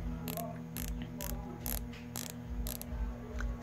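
Scope turret adjustment screw being turned on a rifle scope, giving six evenly spaced sharp mechanical clicks about half a second apart, close and clear over a steady low hum, with no talking.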